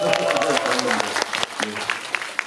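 A theater audience claps for a film cast's stage greeting, a dense burst of applause with a voice speaking over it.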